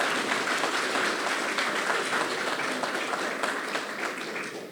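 An audience at an eloquence tournament evening claps in a steady, dense wash of applause that holds evenly and then tapers slightly. No one speaks over it.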